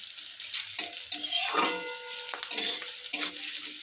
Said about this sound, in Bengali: তো মাংস নিয়ে আসলাম। তো হালকা হালকা একটু ভেজে নেব।